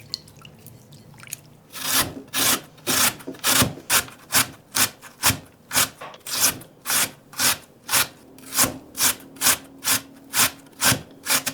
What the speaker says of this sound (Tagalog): Ginadgad ko lang ito.